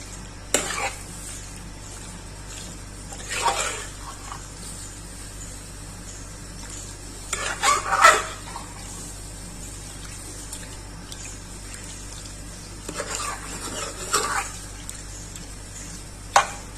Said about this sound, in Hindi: कलर अपना चेंज करेगी चिकन। अच्छा सा भून लेंगे।